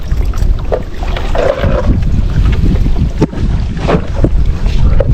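A small fishing boat moving on water, with splashing, lapping and gusty wind buffeting the microphone throughout.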